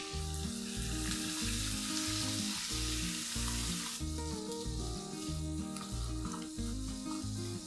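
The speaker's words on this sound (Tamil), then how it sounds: "அடுத்து நறுக்கி வச்ச சக்கரவள்ளி கிழங்கை இது கூட சேர்த்து ஒரு 10 நிமிஷம் வதக்கிக்கலாம்" Sweet potato sizzles and fries steadily in a hot pan, with a constant crackling hiss and faint scraping of stirring throughout.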